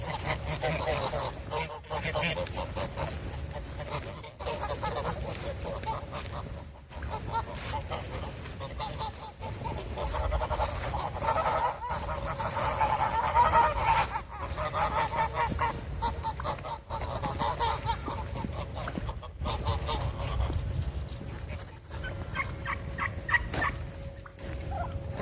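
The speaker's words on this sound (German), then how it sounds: "da vorne können wir gerade einen Perlhuhn sehen" Guinea fowl and other poultry call outdoors, a steady flock chorus of honking and gobbling cries that keeps up throughout, with a few faint voices in the background.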